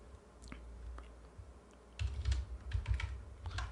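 Keys clatter on a computer keyboard while someone types in accounting software, with light sparse taps at first, then a faster, louder burst of typing in a quiet room.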